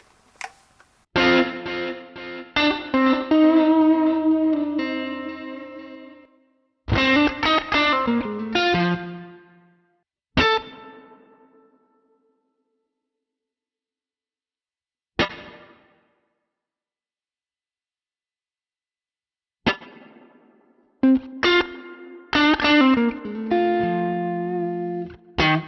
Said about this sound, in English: We've got spring reverbs.